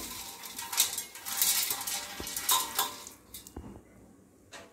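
Fried peanuts and dal tipped into a pan of thin poha chivda, close metallic scraping and clinking of a spoon against the pan with rustling, fading toward the end, no voices.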